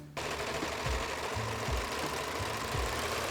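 Sewing machine basting lace and lining pieces together for a bustier-style corset top: a continuous close mechanical whir with low rhythmic thumps of the needle, steady and alone.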